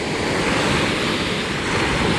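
Ocean waves wash onto a beach in a continuous, loud roar of surf, with wind buffeting the microphone throughout.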